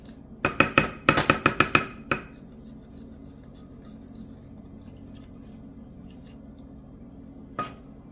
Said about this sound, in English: Mix it until it is well combined.